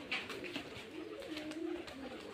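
A Giribaz pigeon from Rajshahi cooing in low, rolling calls close by, over faint outdoor background hiss with no talk.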